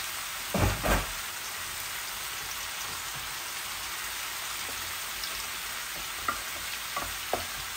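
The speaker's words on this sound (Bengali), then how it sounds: "এই আমার মশলাগুলো ভাজা ভাজা হোক" Spices frying in a pan for a potato and egg curry with curry powder and chili, a steady soft sizzle with a couple of louder stirring scrapes near the start and faint clicks later, no voices.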